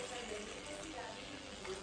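Water pours and splashes steadily into a container, a continuous gushing rush with some background murmur.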